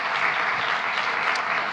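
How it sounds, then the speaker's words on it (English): Brief burst of dense applause from a symposium audience, many hands clapping at once at a steady level. "So just another round of applause for all of our speakers for today."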